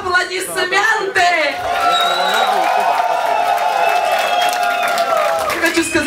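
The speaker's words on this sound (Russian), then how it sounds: "я могу слышать все ваши аплодисменты" A Kyiv club concert audience cheers and whoops loudly for a singer, the crowd noise rising under sustained ringing tones, with a voice speaking over it near the start.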